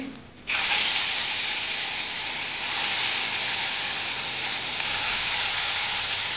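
Tel koi fish frying in hot oil in a pan, a loud, steady hiss and sizzle that bursts in suddenly and holds unbroken for several seconds, close by with no talking.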